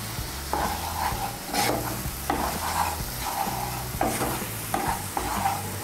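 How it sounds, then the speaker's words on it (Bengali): Spice paste for a cauliflower curry sizzles in a pan under repeated rhythmic scraping strokes of a spatula, each stroke a distinct swish over the steady frying hiss, with a low hum underneath and no voices. "মশলাটাকে আমি ভালো করে কষিয়ে নেব"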